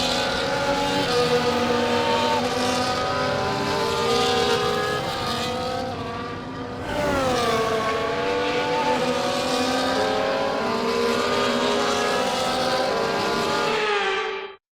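Formula 1 cars on the formation lap around the Baku street circuit in the F1 24 video game, a loud, high engine whine rising through the gears, dipping briefly, then climbing steadily again before cutting out at the end.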